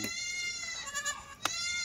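Kathiawadi goats from a herd of about forty, with a drawn-out nasal bleat near the start and another short cry later, moderately close over faint farmyard background, no voices.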